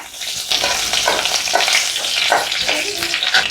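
Curry leaves, fennel, cinnamon, bay leaf, cardamom and cloves sizzle in hot oil for an egg gravy, a steady close crackling spatter with brief louder pops and no talking.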